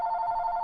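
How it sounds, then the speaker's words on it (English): A telephone ringing, a steady electronic ring tone held continuously for under a second, clear and fairly close with no voices. "Oh, we got a phone call."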